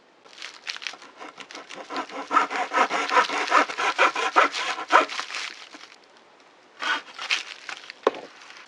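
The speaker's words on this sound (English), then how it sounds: "what I've used there is a panel maker's saw to very finely cut the rod off" Panel maker's fine-toothed handsaw cutting through a fishing rod blank while building a spinning rod: a close, steady run of quick back-and-forth rasping strokes, then a pause and a few final short strokes, with no talking.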